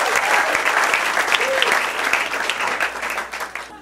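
Comedy club audience clapping for a stand-up comedian, a brisk round of applause that gradually thins and fades toward the end, with a faint voice briefly rising through it.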